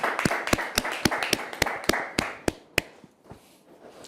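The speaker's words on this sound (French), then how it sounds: "tous ceux qui sont sur le plateau ont applaudi pour vous dire qu'on vous aime très fort" A studio audience on a TV set claps with sharp, distinct hand claps in a fairly steady rhythm, loud at first and then thinning and fading out.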